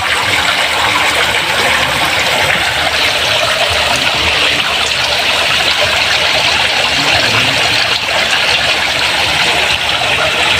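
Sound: water flowing into catfish hatching tank

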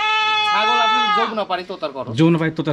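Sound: goat bleating

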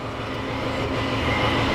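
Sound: tractor hydraulic pump whining while warming up

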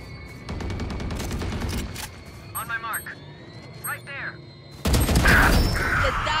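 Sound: gunfire in the video game Valorant

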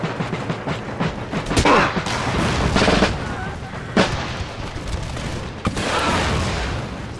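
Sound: musket fire and artillery in the video game Empire Total War

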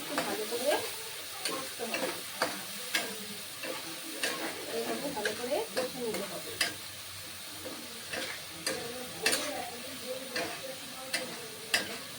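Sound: stirring spiced food frying in a pan

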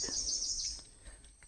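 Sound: birds calling in Sundarbans forest

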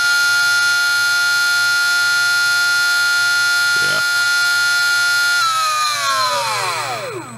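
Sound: Surpass Rocket V6 17.5T brushless motor running at 21,000 RPM

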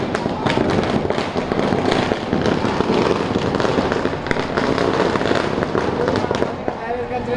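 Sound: firecrackers bursting

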